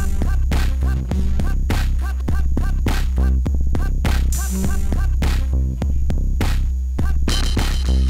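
Vocals heavily distorted through a Waves Berserk distortion plugin ride over a loud hip-hop beat with punchy kicks and dense gritty midrange, continuous and full throughout.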